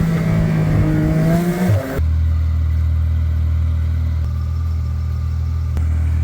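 A lowered car's engine revs steadily as it climbs a steep incline, a loud low drone that holds throughout after a brief shift in pitch early on.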